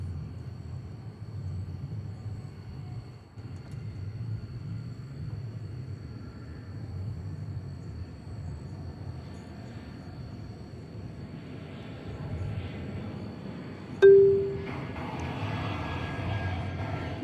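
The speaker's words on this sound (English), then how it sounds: "We're about to see the arrival of American Flight 2438." An Airbus A320 airliner arriving at DFW Airport at night, a distant, low, steady rumble of jet engines that swells gradually, with a brief sharp knock near the end.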